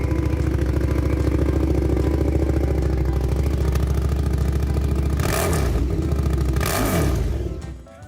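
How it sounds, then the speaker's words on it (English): A KTM 1290 Super Duke GT motorcycle exhaust holds a loud, steady engine note, then gives two sharp revs near the end before the sound fades away. "Exhaust sound of KTM 1290"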